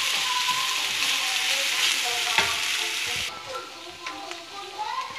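Ginger garlic paste fries in a pan with a bright, steady sizzle and stirring scrapes, loud up close, dropping somewhat in the last seconds, with faint voices in the background.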